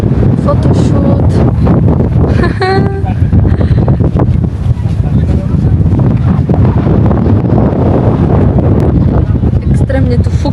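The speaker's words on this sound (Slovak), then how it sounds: "Extrémne tu fúka." Strong wind buffeting the microphone on a beach in Qatar, a loud continuous roar and rumble, with voices faintly audible beneath it.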